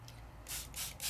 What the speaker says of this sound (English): Go in there and spray, spray, spray.